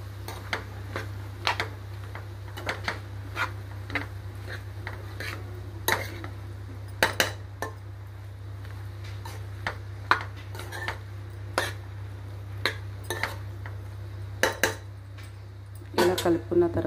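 A spoon scrapes and clinks against a pan while ridge gourd curry ingredients are stirred together, with irregular metallic taps over a steady low hum.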